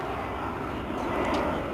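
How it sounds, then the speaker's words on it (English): A fixed-wing airplane makes its approach to land at Reagan National, a steady broad engine roar holding at moderate level throughout without talk. "here's a plane making the typical approach right here"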